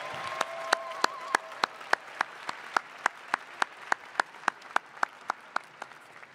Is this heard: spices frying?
no